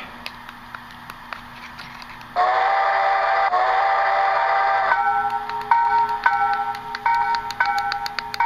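An Athearn Genesis Union Pacific FEF-3 844 HO scale model steam locomotive hums along the track, its whistle blowing for a few seconds, followed by clicking rail sounds and a lingering tone.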